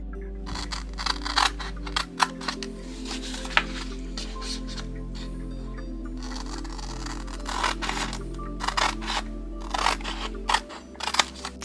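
Scissors cutting out sticky-backed silk screen designs for decorating eco resin, a run of small snipping clicks and crisp paper-like cuts over a steady low hum, close and fairly quiet.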